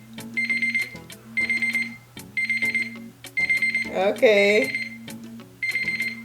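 A five-minute timer alarm rings in repeated beeping bursts, loud and close, with a brief stretch of talk breaking in partway through.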